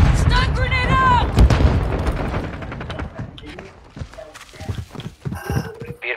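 A stun grenade goes off in a video game as a loud, sharp burst near the start, followed by scattered gunfire cracks and thuds that fade unevenly, with voices briefly heard in the mix.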